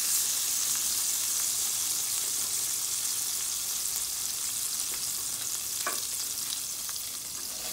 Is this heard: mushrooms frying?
yes